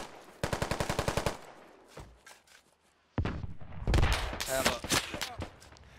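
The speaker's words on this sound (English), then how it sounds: "Very evil enemy mortars." Enemy mortar fire in the Squad military game: a rapid, evenly spaced burst of loud reports, then a quieter stretch, then heavy booming impacts and rumble, with players talking in between.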